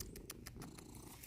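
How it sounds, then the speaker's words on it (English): A cat purrs close by, a soft, steady rumbling with rhythmic breathy pulses repeating a few times a second. "my cat is following me"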